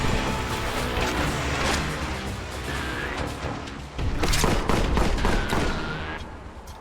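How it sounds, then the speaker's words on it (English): Plasma gun firing in Warhammer 40k Boltgun, dense rapid bursts of loud energy shots with booming impacts and crashes, continuous and close, no talk. "Plasma gun, eh?"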